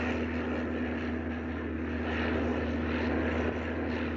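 A propeller airplane flies in a continuous, steady engine drone with a fixed low hum and a broad roar, loud and unbroken throughout, with no talk.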